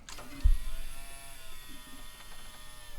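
An old electric fuel pump rigged to siphon a gas tank hums with a steady, fairly quiet electric buzz, starting with a brief thump and running continuously throughout.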